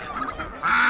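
Geese honk nearby among ducks, roosters, chickens and turkeys on a farmyard, with a couple of short nasal honks followed by a louder, sustained honking call.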